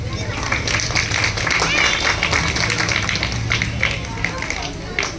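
Crowd at a primary school Republic Day celebration in Haridwar applauds with sustained, dense clapping at a steady level, with scattered voices mixed in.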